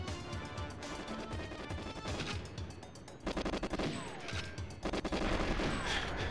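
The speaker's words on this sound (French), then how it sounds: "Qui c'est qui me tire dessus" Gunfire in GoldenEye 64 HD on Xbox: dense, rapid automatic shooting in sustained bursts with crackling impacts, loud and continuous throughout, with no talk.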